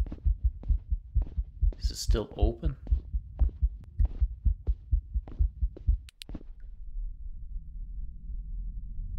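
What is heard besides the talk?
heartbeat sound effect in the video game ROMUT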